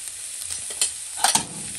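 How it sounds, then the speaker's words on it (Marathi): Rajma filling frying in a pan with turmeric, red chilli powder, goda masala and salt, a soft steady sizzle with a couple of brief stirring scrapes, close and moderately quiet. "आणि मीठ घालून फ्राय करून घ्यायचं"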